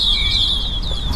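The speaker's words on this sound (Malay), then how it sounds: "minta maaf ya, burung dia kuat sangat kan" Birds chirp loudly nearby, with high, bright, continuous calls in a short burst over faint low background noise, with no talking.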